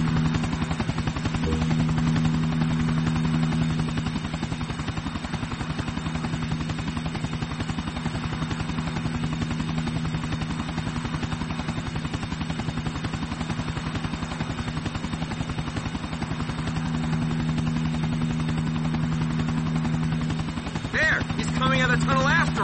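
Helicopter rotor in the video game Grand Theft Auto: The Ballad of Gay Tony, a steady loud chopping drone running throughout, with game gunfire mixed in.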